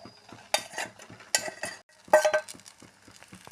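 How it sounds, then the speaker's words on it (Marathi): Soaked sabudana (tapioca pearls) tipped into a pan of oil with fried peanuts and green chillies, giving several close scraping and clinking bursts of spoon against pan over a soft sizzle. "आता यामध्ये मी आपला हा भिजवलेला साबुदाणा घालत आहे"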